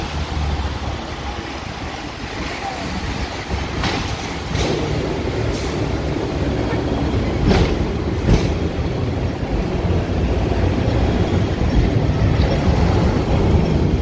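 A Hong Kong tram rolls from Admiralty toward North Point, its steady low rumble and rattle carrying on with faint street noise and occasional high clicks.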